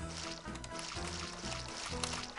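Water pouring into a simple wooden bowl in a video game, a soft liquid splashing and trickling that stays quiet and steady against a faint repeating musical background.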